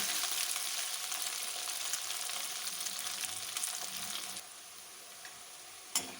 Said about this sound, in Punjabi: ਚਾਰ ਤੋਂ 5 ਮਿੰਟ ਲਈ ਪਿੰਡੀਆਂ ਨੂੰ ਚੰਗੀ ਤਰ੍ਹਾਂ ਫਰਾਈ ਕਰ ਲਾਂਗੇ